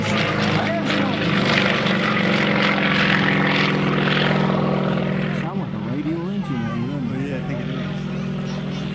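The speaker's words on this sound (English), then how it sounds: "It don't sound like a powerful engine, does it?" Yak aerobatic propeller plane engine droning steadily in flight, a fairly loud continuous hum with a shift in pitch midway as it climbs, with someone talking over it.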